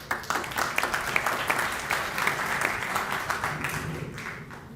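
An audience at a university ceremony gives a warm round of applause, a sustained, fairly distant patter of many hands clapping at an even level for several seconds.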